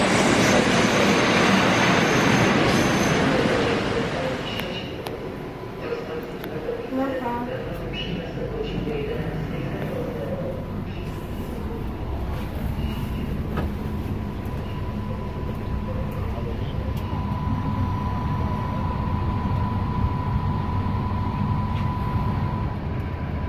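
A train at a railway station in Poland, with a loud rolling rumble at the start that eases into a steady mechanical hum and a thin tonal whine, continuing for the whole stretch.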